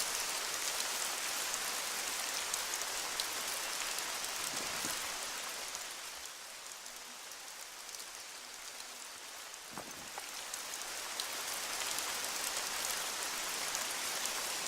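Steady, dense video game rainfall patters down continuously, a constant hiss of drops on surfaces that softens briefly in the middle before returning to full strength.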